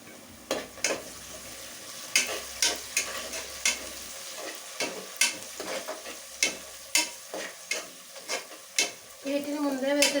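Curry leaves, dry red chillies, cumin and mustard seeds fry in hot oil for a fish curry, giving a crackling sizzle. Repeated sharp spoon scrapes and clinks against the pan sound close and loud as the spices are stirred.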